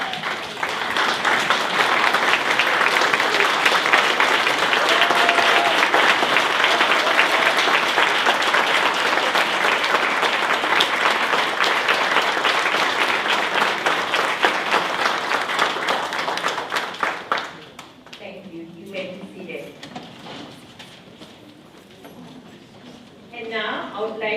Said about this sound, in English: please stand and applaud our amazing and outstanding faculty